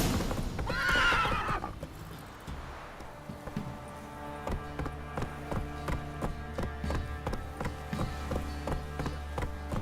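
Horse neighs loudly early on in The Witcher 3 video game, then its hooves clip-clop in a steady galloping rhythm, with no talk.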